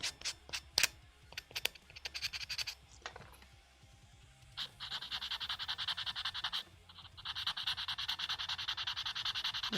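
A sanding block is worked hard back and forth, with a few sharp scrapes at first and then long, steady, close runs of gritty rubbing after a brief pause.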